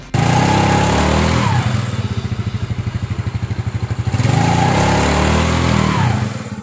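Yamaha Mio Smile 2012 scooter engine idling steadily up close after its CVT clutch linings and pulley were sanded, with a rhythmic pulsing throb and two brief revs rising at the start and near the end.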